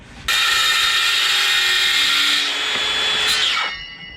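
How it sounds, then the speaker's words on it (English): A power tool, likely a drill, cuts through the middle of a 16mm hole to form a notch for a ratline rivet on a restored boat. A close, loud steady whine runs about three seconds, then winds down at the end. "So the next job is to now cut through the middle of the hole along that line."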